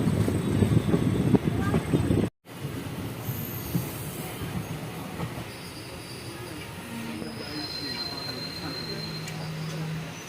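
The Gour Link Express train pulls into platform one at a junction station, with rumbling wheels and squealing brakes up close at first, then settling into a quieter station hum with faint tones and distant chatter.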